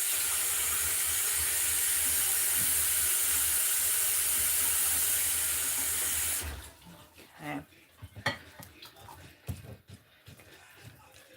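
Water gushes loudly from a tap into a pan for several seconds, then cuts off, leaving scattered clinks and handling sounds.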